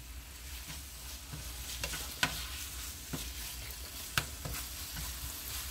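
Ground beef frying and being stirred in a pan, a steady close sizzle with scattered scraping and clinking stir sounds and a few sharp utensil knocks.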